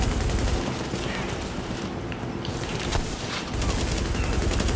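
Gunfire in Tom Clancy's The Division on PS4 during a firefight at Grand Central Station, dense overlapping bursts of shots and booms rattling continuously, loud and close throughout.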